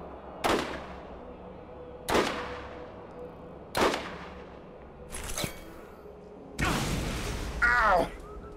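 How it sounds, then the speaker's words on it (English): Gunfire and blasts in the video game Borderlands, several loud sharp booming shots spaced a couple of seconds apart, ending in a longer rumbling explosion with crackling debris. "That's a big explosion."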